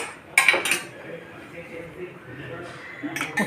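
A spoon stirs rice and broccoli in a metal pot, giving a few sharp clinks and scrapes against the pan over a low background murmur.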